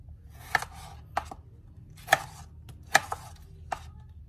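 A tomato chopped with a dull kitchen knife on a board: six or seven sharp, separate knocks at uneven intervals, close and clear with a quiet room between them, no talking.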